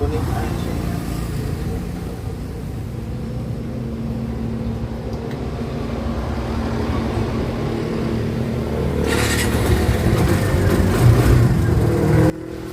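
A 2023 Bajaj Barako 3 motorcycle that had broken down runs with a steady engine drone that swells and grows rougher toward the end, under someone talking throughout, then cuts off abruptly.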